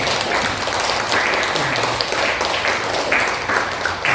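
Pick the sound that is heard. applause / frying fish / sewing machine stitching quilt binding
applause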